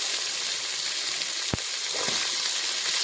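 Carrots and beans sizzle loudly in a hot pan for chow mein, giving a constant dense hiss with one sharp clank midway, close up and with no talking.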